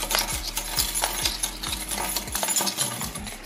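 A coin scraping over a lottery scratch-off ticket, a rapid run of gritty, close scratching strokes with repeated short clicks as the coin edge catches.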